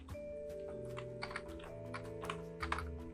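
Soft, scattered keystrokes tap on a computer keyboard during Java code entry, irregular clicks close by over a constant electronic hum.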